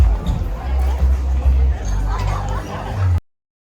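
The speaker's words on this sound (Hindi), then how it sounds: "देखो यहाँ भीड़ देखो भाई" A crowd chatters while waiting for an evening show on Phu Quoc island, steady babble of many voices with occasional laughter, close and loud before cutting off abruptly.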